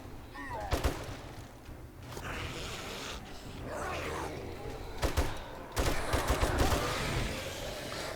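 Gunfire crackles in bursts in 7 Days to Die as zombies are shot, with scattered sharp shots and a denser volley near the end over a busy game background.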